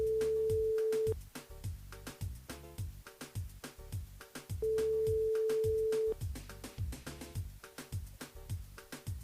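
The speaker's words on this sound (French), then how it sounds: "On appelle Julie du côté de Saint-Leu dans le jeu Le Nialo des Bonsoirs." A telephone ringback tone sounds while a radio host calls a listener in Saint-Leu during a live on-air game: two long, steady beeps separated by a pause, over loud rhythmic music.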